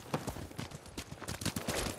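Horses' hooves clop in a quick, steady rhythm, close and fairly loud, in the samurai action game Ghost of Tsushima on PS5, with no voices over them.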